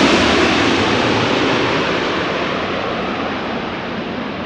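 Wake vortices behind an airliner landing at Schiphol, a loud, broad rushing roar that hisses like surf and slowly fades.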